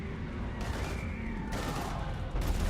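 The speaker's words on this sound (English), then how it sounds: "we're taking heavy fire" Dense sci-fi gunfire in the video game Mass Effect 3, heavy overlapping bursts of shots layered over a constant loud roar of battle noise, with faint voices mixed in.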